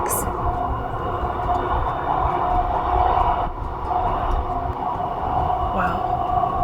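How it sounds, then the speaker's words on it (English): Aboard a Scottish sleeper train, the wheels rumble on the tracks in a steady, close, continuous roar as the train speeds up, with faint clicks and creaks in the background. "Can you hear the sound of the tracks?"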